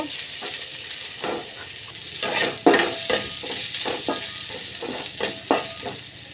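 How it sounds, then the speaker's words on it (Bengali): Chopped onion sizzles in hot oil in a pan along with garlic and green chilies, a steady frying hiss broken by repeated scraping stirs of a spoon against the pan. "এবার দিয়ে দিব পেঁয়াজ কুচিটা হালকা করে একটু ভেজে নিব"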